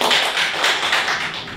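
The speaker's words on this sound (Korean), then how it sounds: "다시 한번 박수 부탁드립니다." Audience applause at a talk event, a dense patter of many hands clapping close and loud, holding steady throughout the short stretch.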